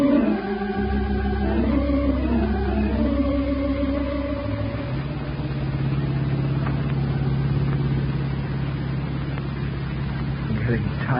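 A 1942 convertible engine drones in an old-time radio drama, first with a rising, shifting whine, then a steady low hum as the car cruises, while a voice talks over it.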